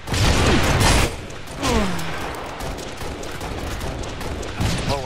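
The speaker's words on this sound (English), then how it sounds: "They're shooting each other." Gunfire in the video game Halo Reach, dense bursts of shooting and explosive booms in a chaotic firefight, loud and continuous, with whooshing effects and occasional voices.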